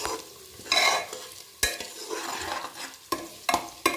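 Sliced potato and onion fry over medium heat in a pan, with a soft sizzle broken by repeated bursts of a spatula scraping and stirring, close and alone.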